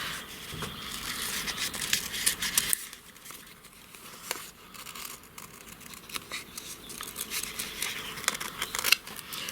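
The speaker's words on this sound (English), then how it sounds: "I'm going to cut a little bit of this." Scissors snip through paper while working in a chunky handmade art journal, giving close, crisp, irregular cuts and crinkles over about ten seconds, with no talking.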